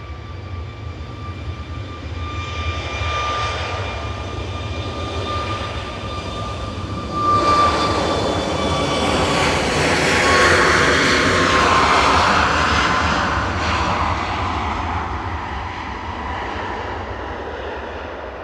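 Airliner landing at Manchester Airport on runway 23 right, its engine roar swelling as it approaches, peaking loudly overhead, then gradually fading away.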